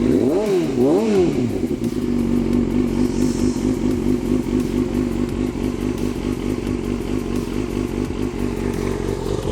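A motorcycle engine revs up and down twice, then settles into a steady, close idle with a rhythmic throb and some clattering.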